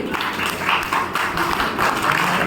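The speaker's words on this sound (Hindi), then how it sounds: "हम सभी खड़े होकर इनका अभिवादन करते हुए जोरदार तालियां बजाएंगे" A standing audience at a memorial gathering addressing nurses claps loudly and steadily, a broad, continuous patter of many hands with slight swells.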